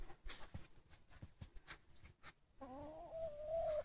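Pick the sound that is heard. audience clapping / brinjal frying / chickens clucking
chickens clucking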